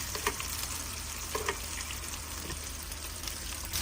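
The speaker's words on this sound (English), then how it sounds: "Start basting the steak for another minute" Steak searing in a hot pan while being basted with melted butter, a steady loud sizzle and spatter throughout with faint spoon scrapes, no talk.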